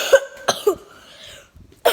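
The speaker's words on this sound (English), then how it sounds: "The prank is I'm coughing on the food prank." A person coughs on food as a prank, giving several sharp, close coughs in quick succession, a pause, then another cough at the end, with no talking.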